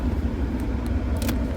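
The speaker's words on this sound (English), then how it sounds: "We gonna let the car warm up a little bit." A new car's engine idles while warming up on a cold, icy day, a low steady rumble close by with a few faint clicks and no speech.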